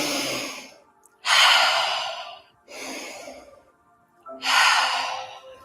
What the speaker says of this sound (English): So send this down with 3 breaths.